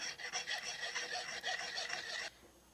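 A garden tool sharpened on an oilstone with circular motions, a close, steady gritty rasping scrape that pulses with each stroke and then stops abruptly.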